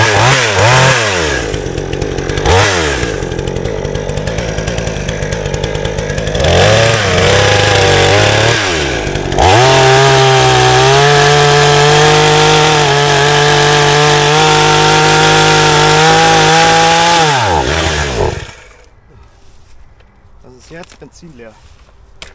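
A petrol chainsaw cuts into a burning tree, its engine revving and labouring loud and close for several seconds, bogging between bursts, then cutting out to near quiet at the end.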